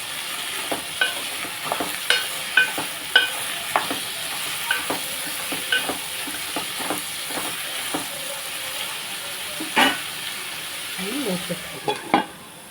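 A spoon scrapes and stirs ivy gourd curry in a pan, giving repeated sharp clacks and scrapes over a steady soft sizzle that runs the whole time. The strokes are close and clear, with no talking.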